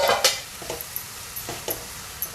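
Onion and tomato cooking in a pan for a fresh pigeon pea curry, a quiet sizzle with a few sharp clinks and scrapes of a spoon against the pan, nearby and without speech.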